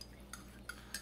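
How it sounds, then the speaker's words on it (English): A spoon clinks against the side of a mug three times in quick succession while stirring stevia into turmeric oolong tea, soft and close with quiet room tone between taps. "Give it a little stir."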